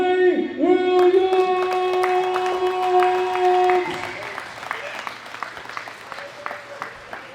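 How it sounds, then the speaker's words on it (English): Crowd applause at the World Classic Powerlifting Championships 2018 greets a gold medal winner in the men's open 120+ kg class, with strong tonal sound and a voice over the clapping at first, then the clapping thins to scattered, fainter claps. "A big round of applause for Big Ray Williams!"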